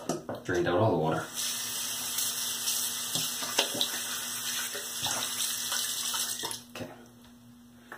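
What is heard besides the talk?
water running and draining in a sink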